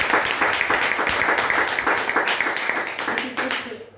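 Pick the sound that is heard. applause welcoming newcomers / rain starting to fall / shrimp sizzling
applause welcoming newcomers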